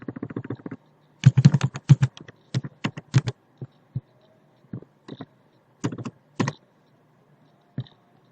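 Typing on a computer keyboard, with clusters of sharp key clicks broken by pauses and then sparse single taps, close and clear against a quiet background.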